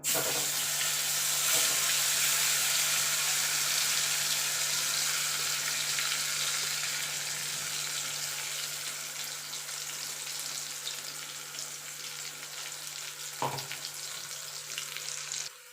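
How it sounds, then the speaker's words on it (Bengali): Black cumin and bean paste frying in hot oil give a steady, close sizzle that crackles evenly throughout, with no voices. "এবার তেলে দিয়ে দেবো কালো জিরে কালো জিরাটা একটুখানি ভাজা ভাজা করে নেবো"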